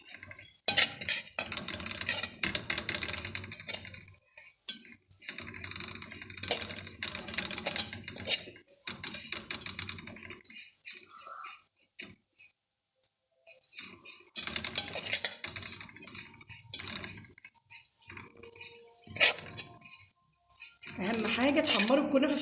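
Kunafa being stirred in a pan, with bursts of close, crisp scraping and clinking of a utensil against metal. The bursts are separated by short quiet gaps.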